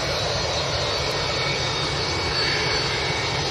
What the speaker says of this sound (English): Got a Ryanair just arriving as well